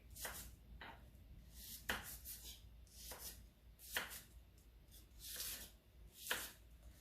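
An apple is chopped into pieces on a board for a pineapple and chickpea curry, with steady knife chops landing in a regular rhythm, crisp and close.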